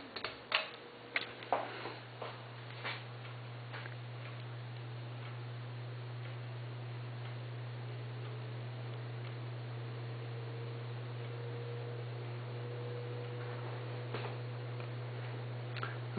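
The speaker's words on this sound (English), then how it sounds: "and of course the fan" A Heritage Brisbane 30-inch ceiling fan runs with a steady low motor hum, joined by a few sharp ticking clicks near the start and occasional faint ticks later, with no talk.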